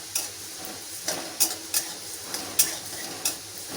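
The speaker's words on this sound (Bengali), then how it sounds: "এবার আমি সর্ষে আর পোস্তটা দিয়ে দিলাম, সামান্য নাড়াচাড়া করবো" Mustard and poppy seeds dry-roasting in a pan are stirred briefly, bringing a soft sizzle with several crisp, close scrapes and taps of the spoon at uneven intervals, and no one speaking.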